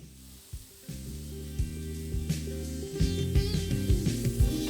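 A pan sizzles steadily while vegetables are stirred and scraped, with a low tonal hum running underneath.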